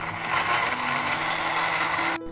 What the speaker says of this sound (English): here friends we will blend this